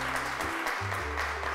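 A studio audience on a Turkish children's talk show claps to welcome a young guest, steady applause layered over low sustained studio music.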